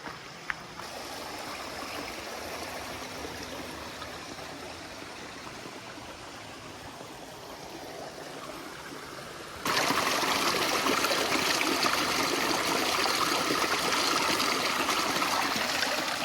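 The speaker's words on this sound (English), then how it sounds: "going down to this stream not too far from here to grab some water for tonight" A forest stream beside the Appalachian Trail flows steadily in a continuous close wash of trickling, gurgling water with no talk, growing noticeably louder and brighter partway through as the listener moves nearer the water.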